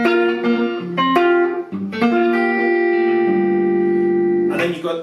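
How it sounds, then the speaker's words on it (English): Electric guitar notes ring out, each followed by a quick, tight echo that doubles the attack, sustained chords fading over a few seconds. "You've got a slap delay."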